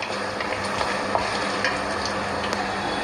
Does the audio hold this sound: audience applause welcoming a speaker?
no